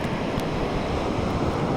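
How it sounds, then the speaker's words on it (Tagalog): Heavy ocean waves roar continuously, with wind gusting across the microphone; no voices. "Grabe na laki yung alon eh."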